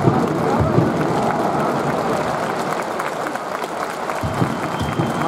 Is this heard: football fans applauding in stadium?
yes